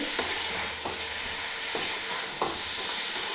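Spices being stirred and mixed in a hot pan, a loud close sizzle with four or five distinct scraping strokes of a spoon, no voices.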